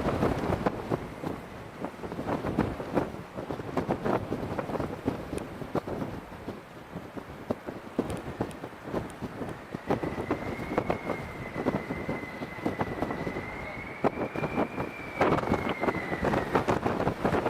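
Wind buffets a Euro-Atlantic Boeing 767 as it lands in a strong crosswind, a steady rough rushing with gusty bursts throughout and a faint rising whine appearing toward the end.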